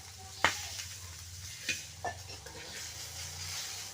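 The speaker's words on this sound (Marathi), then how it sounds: "कांदे मिरच्या थोडंसं तेल टाकून परतून घेतलं" Onions and green chilies sauté in a little oil in a pan, a steady close sizzle with a few sharp clinks of a spoon against the pan.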